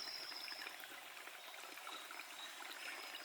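Spring water trickles and burbles steadily in a continuous soft, close wash with no voices.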